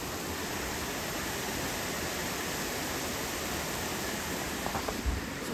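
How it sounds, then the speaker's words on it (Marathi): Heavy rain pouring outside, a dense, steady broadband roar at even loudness throughout, with no talk. "खूप खूप पाऊस आहे. आवाज तुम्हाला येत असेल"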